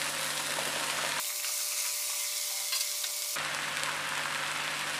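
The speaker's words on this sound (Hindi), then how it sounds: "अब इसको आराम से मिक्स कर देते हैं।" Mushrooms, about 600 grams, being stirred into fried masala in a pan, with steady close sizzling and frying plus soft stirring scrapes; the frying drops out for a stretch in the middle before returning.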